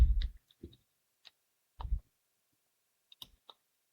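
Sparse computer mouse clicks while merging table cells in a word processor: a few crisp, isolated clicks spaced unevenly with gaps of quiet, close and fairly faint, with no talking.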